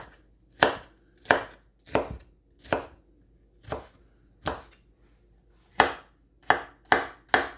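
A knife chops onion on a board in about a dozen separate sharp thuds, spaced irregularly with short gaps, close and clear, with no talking.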